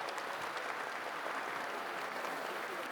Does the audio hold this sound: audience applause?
yes